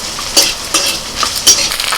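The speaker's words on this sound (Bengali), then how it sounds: "শুটকি মাছগুলো ভাজা হয়ে গেছে" Close sizzling of dried fish frying in a pan, with a few sharp scraping stirs at irregular intervals over the hiss.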